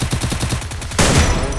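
Gunfire in a video game: a rapid string of automatic shots in a steady rhythm, then a louder, denser burst of shooting near the end, close and with no talk.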